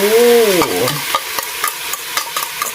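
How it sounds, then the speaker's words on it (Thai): Chicken stir-fried with fish sauce, salt and seasoning in a pan, loud close scraping and tossing strokes over a bright sizzle, following a short whistle-like tone at the start. "เอาไปคั่วนะคะัวให้ให้เครื่องเขาเข้ากันก่อน"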